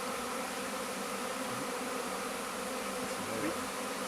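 A honeybee swarm being settled into a hive hums as a dense, continuous buzz, close and steady throughout, with a few nearby bees droning louder for moments.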